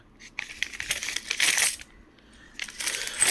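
Indian 10 rupee coins, 2023 Hyderabad mint issues, clink and jingle in bright metallic bursts, with a brief quiet gap before a louder run of rattling near the end.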